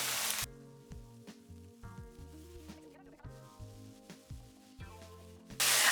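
Courgette fries in a pan beside tomatoes for a chicken pesto pasta, a soft close sizzle broken by clinks and knocks of a utensil, with music playing over it.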